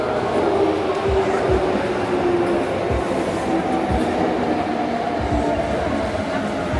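A train bound for Nara in Japan runs steadily, with a continuous rumble and periodic rhythmic wheel thumps over rail joints throughout, close and fairly loud, with faint talk underneath.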